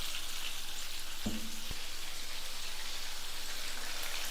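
Fish pieces fry in oil with a dense, even crackling sizzle like rain, close and steady, broken once by a short utensil knock; no one speaks.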